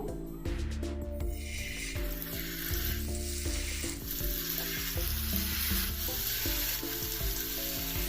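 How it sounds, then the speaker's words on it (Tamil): Fish frying in hot oil, a continuous bright sizzle under soft scraping and stirring, with some background tones layered through the whole stretch. "எண்ணெய் நல்லா சூடாயிடுச்சு மீன்களை வந்து எண்ணெயில் சேர்த்துருவோம்"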